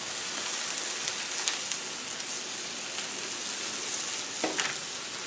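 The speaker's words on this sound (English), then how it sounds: "so we're going to put some red potatoes down" Red potatoes sizzle on a hot Blackstone griddle, a steady, dense frying hiss with faint crackles and pops, close and alone with no talking.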